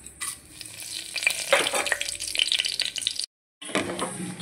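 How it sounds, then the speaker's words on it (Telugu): Bay leaf, black and green cardamom, cinnamon and cloves fry in hot oil with a close, steady sizzle and crackle, broken by stirring scrapes and a brief cut to silence. "ఆయిల్ వేడెక్కింది కదండి. ఇప్పుడు ఇందులో మనం బిర్యానీ ఆకు, బ్లాక్ ఇలాచి, 2 ఇలాచి, దాల్చిన చెక్క, లవంగాలు ఉంటాయి కదా, అవి వేసేసుకుందాం."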